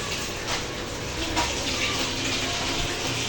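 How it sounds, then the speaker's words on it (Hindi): Water running from a tap to fill bottles, a steady gushing stream with slight splashy variations, close and continuous for a few seconds. "अब हम भरेंगे बोतलें पानी की"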